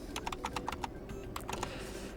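Typing on a computer keyboard in a Linux terminal, a short run of distinct quick keystrokes, a brief pause, then a few more taps, close and fairly quiet.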